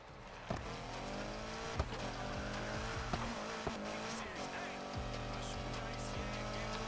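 A tuned-up car revs and races in Need for Speed Heat, its engine note a steady loud drone with shifting pitch, brief tire squeals and impacts, while a voice talks over it.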